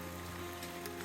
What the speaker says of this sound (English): This rain has been absolutely intense.